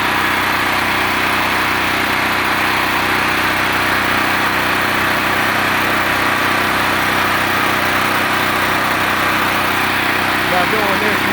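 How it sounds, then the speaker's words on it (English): Portable generator engine running steadily and loudly throughout after its fuel has been shut off, a constant close drone with no sputter or stop yet. "Always turn the gas off on the generator and let it cut itself off."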